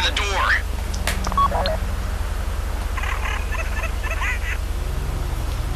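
Short electronic dialing tones from a phone used to open a bank vault door during a Fleeca heist in GTA, a few quick beeps early on over steady game hum and a low drone, with talking.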